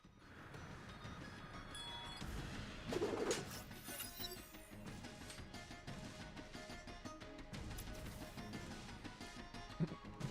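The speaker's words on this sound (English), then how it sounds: "Oh, the Wednesday birds are everywhere." Pigeon-like birds coo softly in the Honkai Impact 3rd game, a faint background of repeated coos mixed with steady ambient game sound and rumble.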